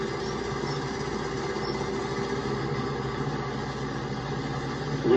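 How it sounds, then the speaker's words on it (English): A tractor-trailer truck engine runs during a brake inspection, a steady low idling rumble with a constant drone and no change in pace, heard alone with no talking. "We turn on the engine."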